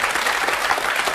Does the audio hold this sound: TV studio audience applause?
yes